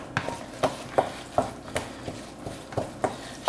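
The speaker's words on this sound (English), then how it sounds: "It's kind of add like a little bit at a time and mix." A spoon stirs and mashes sticky rice in a pot in a steady rhythm of soft scraping, slapping strokes, roughly two or three per second, close by with a faint background hiss and no talking.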